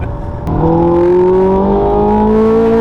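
Naturally aspirated car engine revving hard past 5,000 revs, a loud, close, sustained drone whose pitch climbs steadily after a sharp onset, heard alone without talk.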